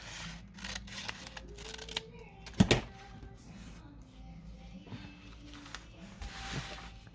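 Scissors cutting the border off a piece of paper for an envelope folio journal, soft crisp snips and paper rustles close by, with one sharper crinkle partway through and quiet handling noise.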